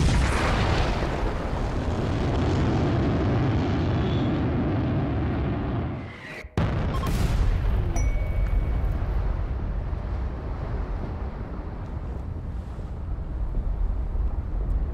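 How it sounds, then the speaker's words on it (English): A nuclear strategic missile launches in the colony game Rimworld with a loud, sustained roaring rumble that cuts out abruptly for a moment, then resumes as a heavy continuous blast fading slightly. "Let's go fire a nuke at that fucking island."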